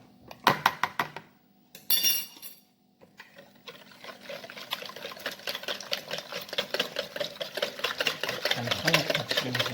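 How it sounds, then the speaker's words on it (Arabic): Spoon stirring basbousa batter made with milk and a splash of white vinegar in a bowl, quick rhythmic scraping and clinking strokes that start in short bursts, then settle into a steady, close, fairly soft churn. "غنخلط هادشي مزيان"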